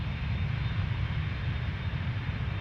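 A jet airliner rumbles on the runway at Toronto Pearson Airport, a steady, loud engine roar heard from nearby with no breaks.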